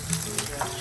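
Fish fries in a hot pan with a loud, continuous crackling sizzle and popping oil, close up, with no talking over it.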